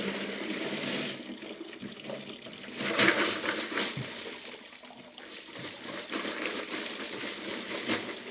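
Water pours and splashes steadily into a sink as liquid is dumped out during case reloading prep, a continuous close trickle and gush with a brief louder surge partway through.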